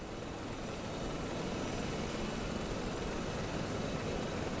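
Mi-8 helicopter in a PvP flight combat game, a steady broadband rotor and turbine roar filling the whole stretch at even loudness, no talk over it.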